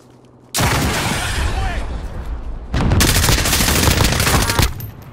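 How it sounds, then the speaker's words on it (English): Heavy automatic gunfire in a Warzone-style battle game, with two long, loud sustained bursts of rapid shots separated by a short pause, close and dense. "I'm taking fire!"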